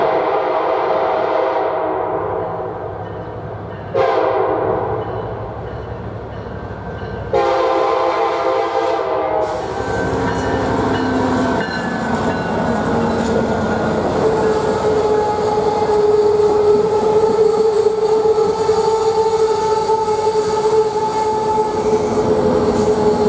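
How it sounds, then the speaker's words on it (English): Amtrak Piedmont passenger train arriving at Cary station in North Carolina, a loud steady rumble and rail noise building over time, with a horn or whistle tone sounding partway through and no talk. "Now arriving into the Cary station, Piedmont train number 76."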